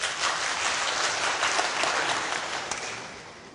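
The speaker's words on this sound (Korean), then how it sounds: "노동자라고 생각하시면 박수 쳐주시기 바랍니다." A Korean workplace gathering's audience applauds during a lecture, a loud, dense wash of many hands clapping together that holds steady and then slowly fades toward the end.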